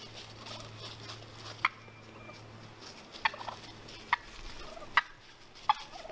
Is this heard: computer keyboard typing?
no